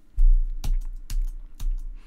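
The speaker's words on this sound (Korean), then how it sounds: "엔터를 눌러서 줄을 내려보면은" Four separate key presses on a computer keyboard, each a sharp near click spaced roughly half a second apart, with no talking.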